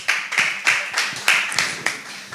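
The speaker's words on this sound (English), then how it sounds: "A round of applause for George." Small audience clapping for a spelling bee contestant, a sparse group of hands producing about eight distinct, evenly spaced claps at moderate volume with no talking over them.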